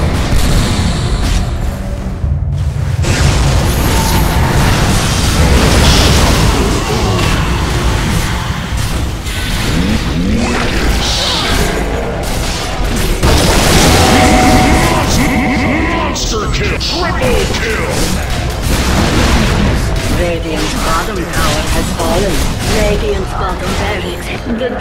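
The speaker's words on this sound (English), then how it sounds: "Radiant's bottom tower has fallen." Dota 2 gameplay with loud, dense battle noise as a tower is attacked and destroyed: continuous clashing, booms and effects, with an announcer voice calling out the tower events.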